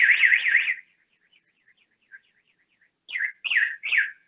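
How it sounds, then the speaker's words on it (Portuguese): A motion-sensor burglar alarm at a training unit sounds in short warbling electronic bursts: a loud sweeping tone for under a second, a quiet pause with faint chirps, then three more rising-falling wails close by. "Disparou o nosso alarme aqui da unidade."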